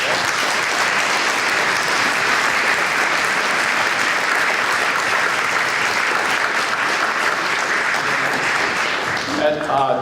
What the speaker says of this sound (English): So I think we owe Doug a round of applause for all of that.